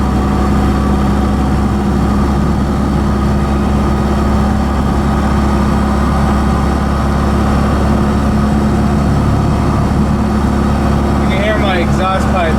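4BT Cummins diesel engine swapped into a Ford F150, heard from inside the cab on a bumpy road, droning loud and steady as it pulls through the gears, with a brief rattle near the end.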